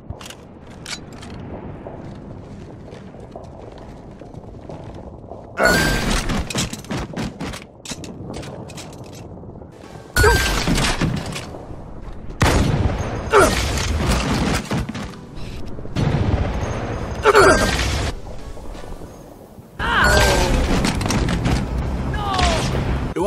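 Jackal sniper fire in the video game Halo 2 on legendary difficulty: loud, sharp gunshot bursts arrive in several separate volleys with booming impacts, set against quieter game ambience between them.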